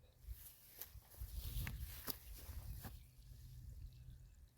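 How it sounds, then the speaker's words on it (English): Water poured from a 5-gallon bucket onto young fruit trees, including pear and persimmon, outdoors; soft splashing and trickling with a few dull thumps and footstep-like steps, fairly faint and close. "Come down here, water these trees."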